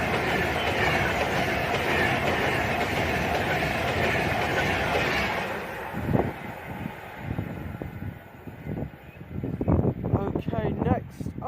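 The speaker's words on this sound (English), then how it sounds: "Passing next for Avanti West Coast, we should see 39128 with 9 Sierra 60 from London Euston to Edinburgh" Avanti West Coast passenger train running from London Euston to Edinburgh passes Berkswell on the West Coast Main Line, a loud sustained roar of wheels and wagons that fades into clattering rail noise.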